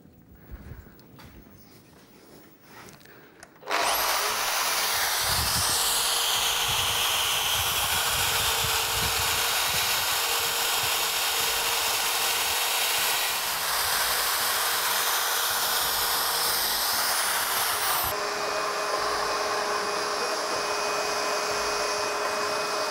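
A drilling machine bores a hole for a concealed cup hinge, starting abruptly and running as a steady, loud whirring grind for about fourteen seconds, then shifting to a lighter, higher spinning hum as it winds down.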